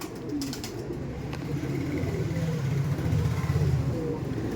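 Andhra pigeons, a male and female pair, give low throaty coos building through the stretch, close and moderately loud, with a few sharp knocks near the start and a faint car-like rumble underneath.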